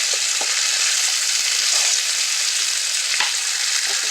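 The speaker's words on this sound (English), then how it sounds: "You can hear that sizzle." Potatoes for hash browns sizzle steadily in a frying pan, a continuous close, loud hiss with occasional pops and crackles and no voices.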